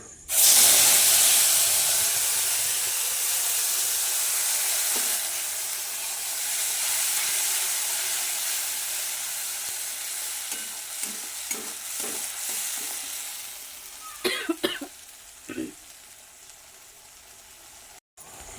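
Spices and black cumin seeds sizzle in hot oil in a kadai for Bhola fish curry, a loud steady hiss that fades slightly, with a few scrapes and clinks of stirring near the end.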